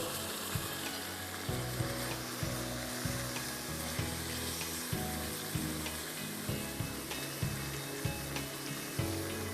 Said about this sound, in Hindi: इसको आप 5 मिनट तक फ्राई करेंगे।